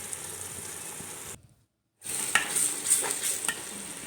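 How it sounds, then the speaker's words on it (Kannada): Tomatoes fry with masala in hot oil for mutton biryani, a steady close sizzle with scraping stirring strokes, broken by a brief silent gap before the frying hiss returns louder. "ಟೊಮೊಟೊನಾದರೂ ಚೆನ್ನಾಗಿ ಫ್ರೈ ಆಗೋದಕ್ಕೆ ಬಿಡಬೇಕು"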